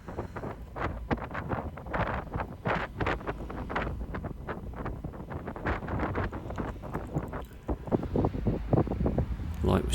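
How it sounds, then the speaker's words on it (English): Strong gusting wind buffets the microphone outdoors on the Cornwall coast in mid-May, a steady loud rush with repeated harder gusts and rumble throughout. "Look at the wind."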